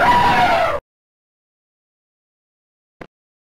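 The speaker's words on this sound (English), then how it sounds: "Elephant." An elephant trumpets in one loud, bright, sliding blast lasting under a second, followed by silence and a faint short click.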